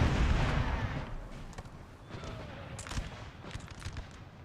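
Cannon fire from an artillery battle in Napoleon Total War booms out as several separate, fairly distant blasts over a rumbling battlefield din.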